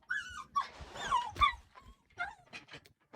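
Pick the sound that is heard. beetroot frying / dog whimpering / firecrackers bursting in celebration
dog whimpering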